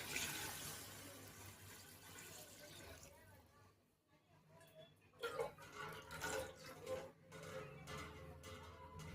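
Water runs and splashes into a cooking pot of rice for chicken biryani in uneven bursts, with a steady background hum and a short quiet gap midway.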